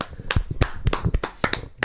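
A small podcast studio crowd gives a brief round of applause, several people clapping close to the mics in an uneven burst of sharp claps.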